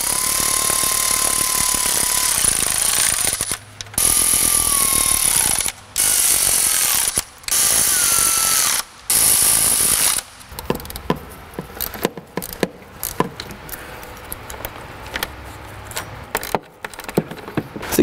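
Ratchet wrench tightening the intake manifold bolts on a Mini Cooper N14 engine during a bent valve repair: several long runs of loud rapid clicking separated by short pauses, then slower irregular clicks and tool clatter.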